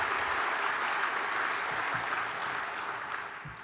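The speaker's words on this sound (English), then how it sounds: "you all deserve a huge round of applause" The crowd at the NZ Truck Driving Championship awards ceremony gives dense, loud applause that keeps an even level and then tapers off slightly toward the end.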